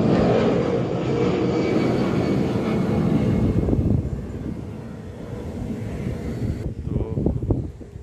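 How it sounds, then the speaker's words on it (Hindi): A steady, broad roar of an airplane engine overhead, hidden behind clouds, distant and rumbling, mixed with wind noise, gradually fading toward the end. "ये देखिए प्लेन की आवाज़, एरोप्लेन की, लेकिन दिखाई नहीं देने का सब क्योंकि बादल हैं"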